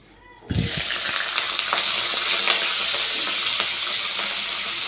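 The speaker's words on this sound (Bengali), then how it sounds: "এই যে সমস্ত সবজি আমি কেটে নিয়েছি, এবার এক এক করে ভেজে নিই।" Cut vegetables, starting with bitter gourd, drop into a hot wok, and a steady loud sizzle begins after a brief quiet start and carries on close up with faint stirring clinks.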